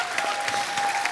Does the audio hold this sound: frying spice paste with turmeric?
no